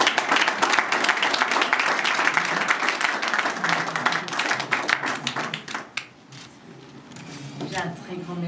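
A crowd at a charity race cheque presentation in Dijon's Parc de la Colombière claps in a dense, lively burst that gradually thins into scattered claps, with voices talking over it near the end.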